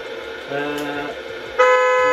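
A car horn being swapped during a replacement honks in a steady, close tone, then a second, louder, brighter horn blares alone.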